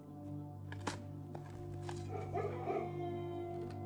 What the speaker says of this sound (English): Why do I hear dogs?